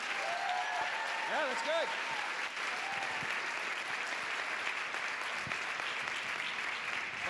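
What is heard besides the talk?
audience applause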